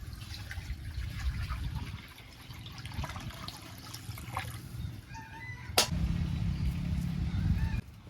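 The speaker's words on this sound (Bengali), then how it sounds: "জল দিয়ে দিচ্ছি।" Water poured into a cooking pot for broken rice makes a soft, steady splashing and gurgling that settles into a brief, rising filling tone near the end, with faint kitchen noise in the background.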